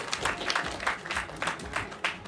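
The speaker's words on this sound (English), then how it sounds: "Let's give them a big round of applause for their hard work and commitment" An audience at a TEDx youth event applauds the organizing team, with scattered, uneven claps rising and falling in loose bursts at moderate volume.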